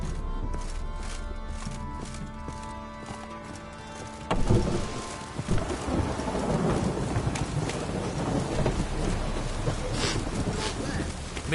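Rain pours down in a thunderstorm in The Witcher 3: Wild Hunt, thunder cracking in loudly about a third of the way in and steady heavy rain hissing throughout.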